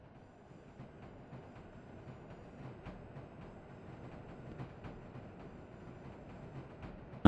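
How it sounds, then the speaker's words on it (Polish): A train approaching from Brynów station on the Polish rail network in the SimRail simulation game, a steady rumbling roll with faint rhythmic wheel clicks growing slowly louder over several seconds, with no talk. "już z Brynowa jedzie pociąg"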